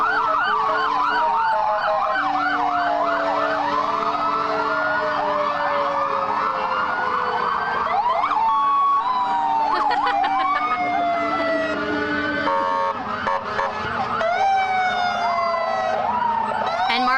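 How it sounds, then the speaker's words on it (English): A Life Care Ambulance siren wails continuously through a Cinco de Mayo parade in Lorain, loud and close, cycling through rising and falling sweeps with quicker yelping bursts later on. "Life Care Ambulance taking part in today's parade."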